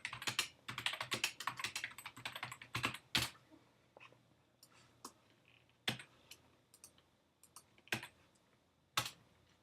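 Someone types on a computer keyboard in quiet bursts of close, crisp key clicks, quick at first and then slowing to scattered single taps.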